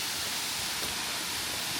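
Palenk waterfall in Logarska Dolina, Slovenia, a tall fall, pours in a steady, even hiss of rushing water, moderately faint and unbroken, with no voices.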